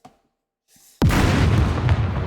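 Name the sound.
explosion in the video game SCUM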